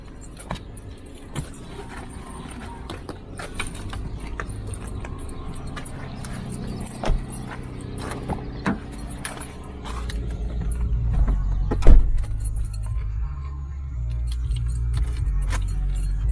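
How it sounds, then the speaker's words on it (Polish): A small car engine warms up, rising from quiet to a steady low idling rumble, with keys jangling close by near the start and no talking. "Autko się rozgrzewa."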